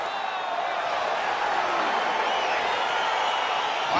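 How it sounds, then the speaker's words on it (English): An arena crowd in the UFC 4 video game roars steadily as a fight gets underway, a dense continuous wash of cheering without breaks. "Crowd getting excited as this fight gets underway"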